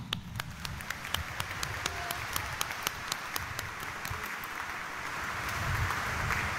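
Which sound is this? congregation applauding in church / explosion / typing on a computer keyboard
congregation applauding in church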